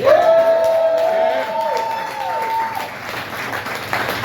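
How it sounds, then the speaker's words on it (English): A crowd claps and cheers steadily, the applause filling the room, with a brief tonal ring at the start and scattered whoops. "let's hear some applause for that"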